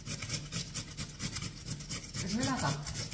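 A potato is rubbed over a hand grater in a home kitchen, making quiet, rhythmic rasping strokes close by at a steady pace.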